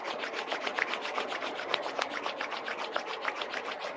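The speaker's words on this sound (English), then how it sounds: "So we'll rub our hands together." Hands rub briskly together at the close of a yin yoga class, a soft rhythmic rasping of skin on skin repeating in quick, even strokes, close and quiet with no voices.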